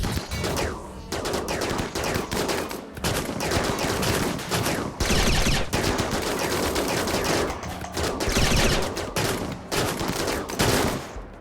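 Rapid sniper gunfire in RimWorld rattles almost without pause, loud dense volleys of shots with a few brief lulls, the battle noise dominating throughout.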